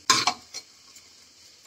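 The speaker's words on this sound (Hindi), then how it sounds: "हमारा कुकर भी जो है अच्छी तरह से ठंडा हो गया है। अब इसे हम खोल लेते हैं" The lid of a cooled pressure cooker holding cooked kala chana (black chickpeas) is opened close up. A couple of quick metallic clanks and clatters are followed by a quieter clink and a short lull, then another sharp clank.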